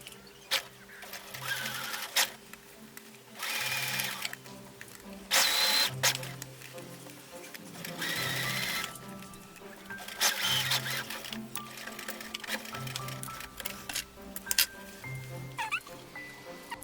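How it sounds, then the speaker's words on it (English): Sewing machine topstitching a pocket seam on a skirt, quiet bursts of rapid stitching separated by short pauses, with small handling clicks between runs. "And then we can top stitch it, and it'll perfectly hide our seam on the inside."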